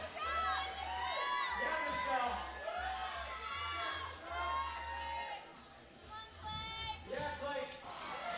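Crowd at a climbing competition final cheering and shouting for a woman on her last attempt to reach the top, with excited voices rising and falling throughout and a low hum underneath.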